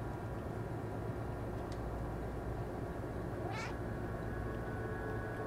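A single drawn-out cat meow from the stray cat in the video game Stray, clear over a constant low ambient drone.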